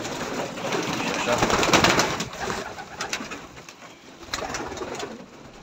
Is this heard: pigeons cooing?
yes